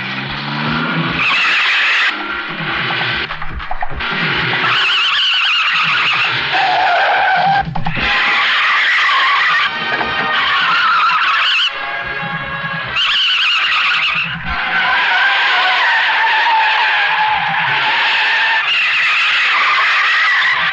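A new car is driven fast over a rough road in a Bollywood film scene. The engine roars loudly and continuously, broken by repeated tire squeals and skids, with no talking.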